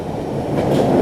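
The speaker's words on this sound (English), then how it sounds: "Here comes the train." A train pulls into a station, its steady rumble and rail clatter growing slightly louder over a full second with no talk.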